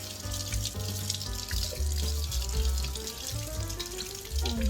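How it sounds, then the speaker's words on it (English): Water pours from a bathroom tap into a sink, a steady close splashing hiss with some gurgling, while makeup brushes are rinsed under it. "then I turn on the water"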